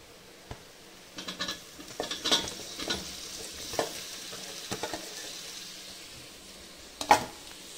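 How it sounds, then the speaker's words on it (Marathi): Tomato and potato tossed into onions fried until red for spiced masale bhat rice, giving a low steady sizzle with scattered scrapes and clinks as the pan is stirred, a sharp knock near the end, no talking. "आता आपण टाकणार आहोत त्याच्यात टोमॅटो आणि बटाटा"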